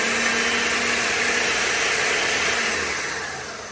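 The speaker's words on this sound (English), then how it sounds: "We're going to do this in a food processor." A food processor whirs steadily on its dough setting, mixing flour and salt for pizza dough, a loud, even motor drone that holds for several seconds before beginning to fade.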